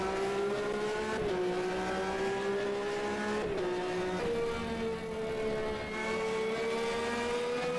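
A hill climb race car at a round of the European Hill Climb Championship on the Dobšinský kopec course, its loud high-revving engine held steady with brief dips at gear changes, continuous and close throughout.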